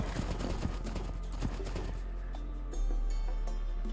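Horse hooves clip-clop in a quick, steady rhythm in the strategy game Age of Empires II, loud and close for the first half, then giving way to a steadier background wash.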